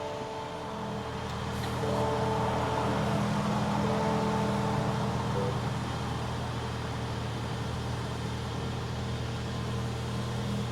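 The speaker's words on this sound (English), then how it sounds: "Turn the car on." A Lexus NX350 compact crossover SUV starts up, its engine noise swelling after a second into a steady low idle hum heard from inside the cabin, with no one speaking.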